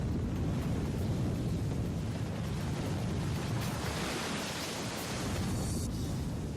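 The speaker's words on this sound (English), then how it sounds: "As the cofferdam crumbles, it unleashes the water stored behind it." Water rushes out as a cofferdam at the Three Gorges Dam crumbles, making a continuous broad roar like heavy surf that stays steady and dense throughout.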